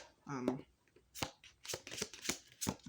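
A trimmed tarot deck being shuffled by hand: a quick run of crisp, riffling card snaps, close and fairly soft, after a brief bit of talk at the start.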